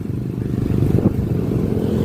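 A motorcycle engine drones low and loud in Nueva Ecija, Philippines, holding a steady rumble with a brief swell midway as it passes close.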